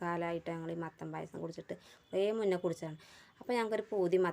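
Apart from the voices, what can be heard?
None of the usual background noises is heard.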